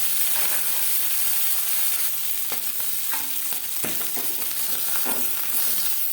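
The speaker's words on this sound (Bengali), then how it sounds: "জ্যান্ত মাছ আমি এখানে হালকা করে ভেজে নিচ্ছি" Fresh foli fish fry lightly in oil in a pan, a loud continuous sizzle close by, punctuated by a few clicks and scrapes from turning the pieces.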